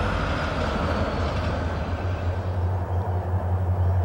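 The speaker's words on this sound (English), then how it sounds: "extra south grain train, south of Ashdown, Arkansas." A Kansas City Southern extra southbound freight grain train rolls past south of Ashdown, Arkansas, with a steady, loud low rumble of engines and railcars filling the whole stretch.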